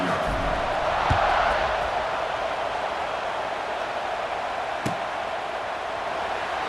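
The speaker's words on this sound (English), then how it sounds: "this crowd is buzzing after that last score" Stadium crowd in a college football video game keeps up a steady, dense buzzing roar throughout, with a brief swell near the start and a faint thump later.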